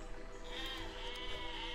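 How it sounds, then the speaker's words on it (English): Sheep bleat in the Besiege medieval construction and destruction game, a wavering, nasal baa that swells midway and holds, fairly faint, with no speech over it. "Oh, those sheep are awesome."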